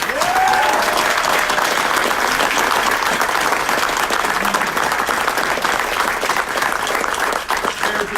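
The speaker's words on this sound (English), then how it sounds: "Big round of applause for Trevor Chambly." Loud, sustained applause from an audience at a city council meeting honoring a state champion wrestler; dense clapping runs steadily for about eight seconds, close and even, with a faint voice or whistle briefly near the start.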